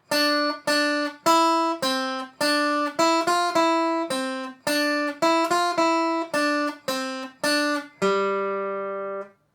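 A guitar plays the Ode to Joy melody in plucked clear single notes with varied rhythm, some quick pairs, ending on a long ringing note that fades; no voices.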